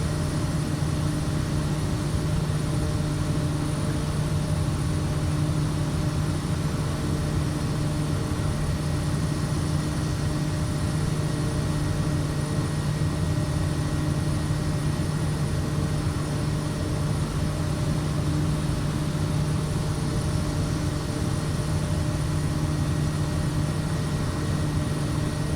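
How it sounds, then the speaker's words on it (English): An SWS Kodiak 100 turboprop runs at full throttle in a flight simulator, a loud, unbroken engine drone with a steady low hum and a faint high whine, constant throughout. "Okay, that is, throttle is firewalled. So, I am giving her all she's got"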